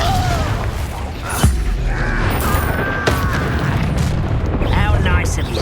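Fiery Confringo spell blasts and booming explosions go off during combat in the Hogwarts Legacy video game. Loud bursts and crackles sound over a dense battle mix, with character voices shouting throughout.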